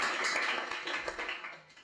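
Two podcast hosts clapping their hands together, a short burst of quick close claps that tapers off over about two seconds.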